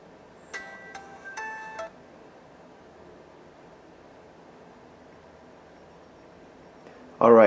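Samsung Galaxy S20 phone chiming as it powers back on after a factory reset, a short bright jingle of a few tones near the start, then quiet room hiss, ending with a sudden loud burst.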